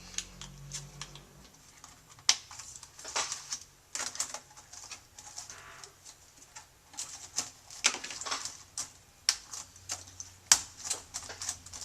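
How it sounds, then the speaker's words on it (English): Keyboard being snapped back into a Dell XPS laptop during repair, a run of close, crisp plastic clicks and taps in irregular bursts, no talk. "now we can put the keyboard back in"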